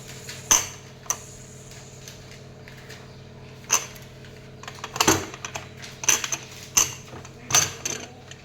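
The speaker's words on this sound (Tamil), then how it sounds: "ரிமூவ் பண்ணி விட்டுட்டு குக்கர் ஓப்பன் பண்ணி காட்டுறேன்." A pressure cooker is opened in a home kitchen, with a string of sharp metallic clicks and clatters of the pot and lid at irregular intervals over a quiet background hum, with no talking.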